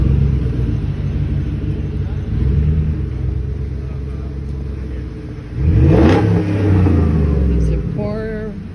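A Ford rolls past at a small outdoor car show, its engine rumbling low and then swelling into a loud rev as it goes by close, with a steady background murmur.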